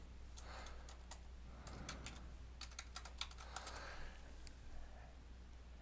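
A Google account name typed on a computer keyboard, with quick irregular clusters of close keystroke clicks over a low steady hum and no talking.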